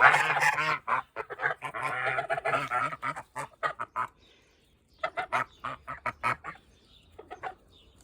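Geese honk loudly and close in rapid, overlapping bursts, a dense cackling run followed by sparser, separate honks with brief pauses between.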